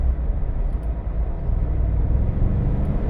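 A 2020 Ford Expedition Max Platinum with a failing transmission drones as the engine revs while the gearbox slips out of gear, a steady loud low rumble under road noise from inside the cabin.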